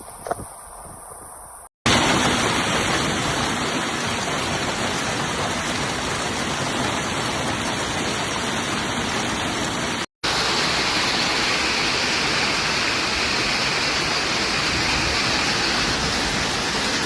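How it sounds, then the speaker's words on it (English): A severe storm with heavy rain and hail in Unaizah, Al-Qassim, Saudi Arabia, brings a dense, loud, continuous roar of downpour. A quieter opening gives way to sustained heavy rain, briefly cut once, with no speech. "the severe storm and hail that struck Aniza, Al-Qassim, on April 19th"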